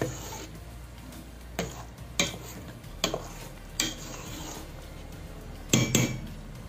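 Ghee being mixed into a Mysore pak mixture in a pan, a spoon scraping and knocking against the metal in irregular taps over a low steady background.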